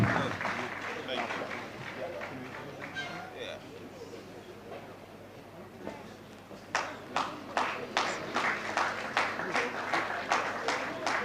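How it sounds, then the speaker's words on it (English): Applause at a national journalism awards ceremony swells from a diffuse crowd wash into distinct, rhythmic clapping in a large hall, moderately loud and continuing to the end. "Ladies and gentlemen, round of applause for Howard Sabali."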